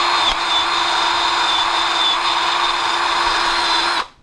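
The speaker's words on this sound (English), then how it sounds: "I just attached a wire cut brush and now I'm going to try to grind down the paint." Power drill fitted with a wire cut brush grinding white paint off a car wheel: a loud, steady high-pitched whine held for about four seconds, then cutting off abruptly.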